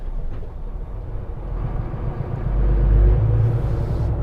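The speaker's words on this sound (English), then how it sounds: "It's the exhaust brake." A truck's exhaust brake gives a loud, continuous low rumble and drone close by that swells near the end, heard with no talking.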